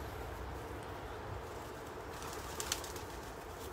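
Racing pigeons in a basket before an 80-mile sprint race, a faint murmur of cooing and wing shuffling buried in steady broadband wind or outdoor noise, with a brief flutter near the end.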